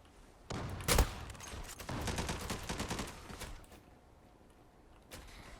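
Game gunfire in a Zula online shooter match: a loud burst of rapid shots near the start, then a sustained stretch of dense automatic fire that fades, with one more short shot at the end.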